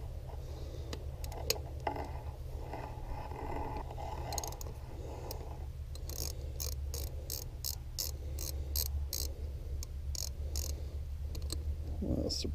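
A ratchet clicks quickly and repeatedly, close up, as it loosens the ground wire bolt on a 2002 Mercury 90 outboard motor, with faint mechanical handling and a low background hum.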